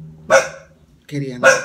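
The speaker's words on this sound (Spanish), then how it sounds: "Disculpen el ruido del perro" A dog barks indoors with two loud, close barks about a second apart, while a person talks in Spanish right over the sound.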